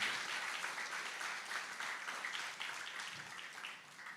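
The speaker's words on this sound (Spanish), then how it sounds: "Denle el aplauso fuerte al Rey." A large crowd at a church sermon applauds steadily, a dense wash of clapping that fills the space and tapers slightly toward the end.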